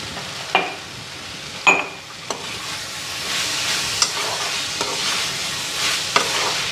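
Spices with tomato frying in a pan hiss in a continuous close sizzle, broken by several sharp clinks and scrapes of a stirring utensil.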